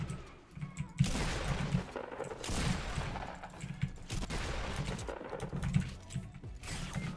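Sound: automatic weapon gunfire in a video game

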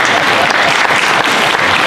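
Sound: audience applause at concert

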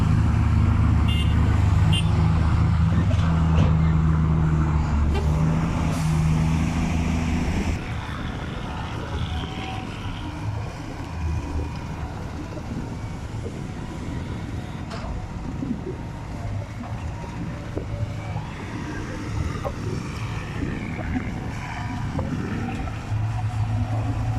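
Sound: excavator four-cylinder diesel engine running

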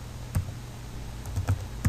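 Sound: typing a command on a computer keyboard

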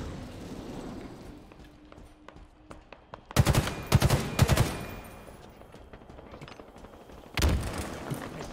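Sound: gunfire in the video game Halo Infinite

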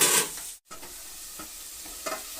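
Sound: onions with salt sizzling and being stirred in a pan

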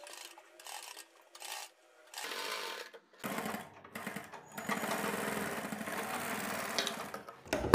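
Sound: sewing machine stitching a neckline edge

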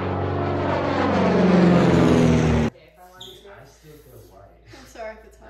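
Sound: voice imitating an airplane while feeding

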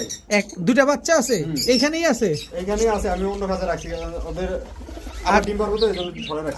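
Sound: pigeons cooing

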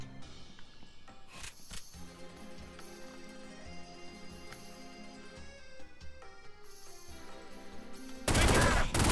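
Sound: gunfire from the video game The Godfather

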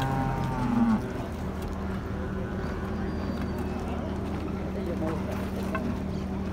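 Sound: cattle mooing at a livestock market

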